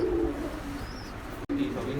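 Pigeons coo softly and repeatedly at close range, low steady calls over a background hum, with one brief dropout near the end.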